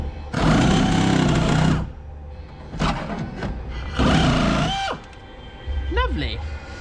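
A power tool grinds loudly through a car's plastic door trim to cut a tweeter recess, running in several harsh bursts with pauses between and a voice talking in the gaps.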